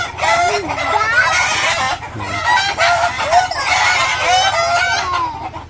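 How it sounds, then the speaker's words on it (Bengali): Chickens on a village farm cluck and call loudly and continuously close by, several birds overlapping in busy, rising and falling squawks with short pauses between bursts. "মুরগি খুব সুন্দর ডাকে"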